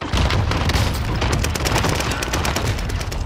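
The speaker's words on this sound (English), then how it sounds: "Enemy precision airstrike." Video-game enemy precision airstrike explosions pound in a dense, loud barrage of booms and rattling blasts, continuous for several seconds with no talk.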